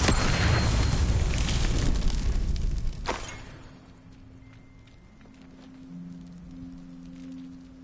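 A Confringo spell blast in Hogwarts Legacy erupts as a loud, broad rumbling burst for about three seconds, then cuts off sharply and leaves a quiet tail of faint tones and hum.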